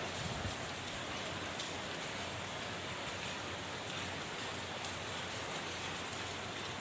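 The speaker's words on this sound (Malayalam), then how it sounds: "ഒരു മഴ ഇപ്പോൾ പെയ്തുകൊണ്ടിരിക്കുകയാണ്" Heavy rain pours down in Ernakulam as a dense, even hiss, unbroken and constant with no voices over it.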